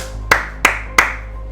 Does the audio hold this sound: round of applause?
yes